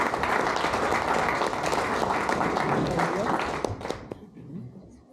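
Applause at a French town council meeting, a brief round of clapping mixed with murmuring voices in the room that fades out near the end.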